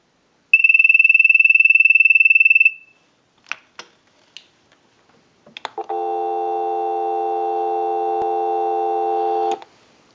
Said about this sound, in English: we'll give you some dial tone